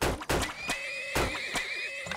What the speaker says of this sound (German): 3, 4 Pferde.